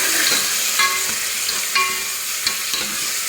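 Onion and green chili stirred in a sizzling pan for fenugreek rice, with a loud, close frying hiss and repeated scraping strokes of a spoon at an uneven rhythm.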